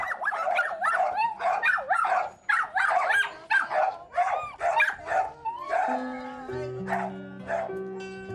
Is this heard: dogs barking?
yes